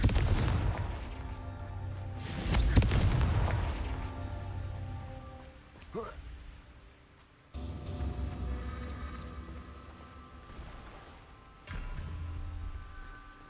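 Confringo explosive spell blasting in the video game Hogwarts Legacy: a loud booming burst followed by rumbling debris and crackle, then further thuds and a second lingering rumble.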